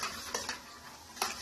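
A spatula scrapes and stirs fried rice in a hot pan, with a few distinct clatters against the pan over a soft, steady sizzle, close and fairly quiet.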